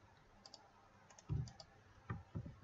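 Computer keyboard typing and mouse clicking, faint and close, with scattered light key taps and a few heavier thuds of keystrokes in an otherwise quiet room.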